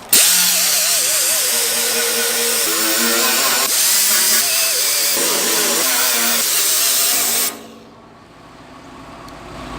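A power tool strips paint and rust from a Datsun 240Z gas tank, a loud, steady whine and grind running close up for several seconds before cutting off abruptly, leaving a quiet room tone.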